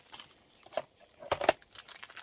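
Scissors cut through scrapbooking packaging, giving faint, quiet snips and crinkly plastic rustles in short bursts, with a sharper cluster of cuts near the middle, close by and without talk.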